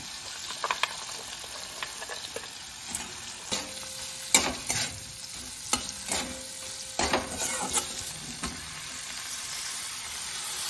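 Masala spice paste for a fish curry fries in oil with a steady close sizzle. Frequent scraping stirs and light clinks of a spatula in the pan run throughout, and no one speaks.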